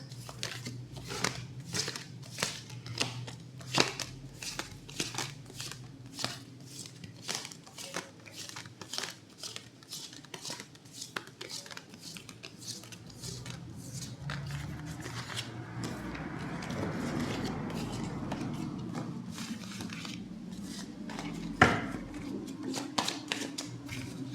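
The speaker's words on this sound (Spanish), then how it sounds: "Vamos a volver a mezclar las cartas." Playing cards shuffled repeatedly by hand at close range in a steady riffling rhythm, with brief crisp snaps between passes and a soft rustling stretch partway through, no voices.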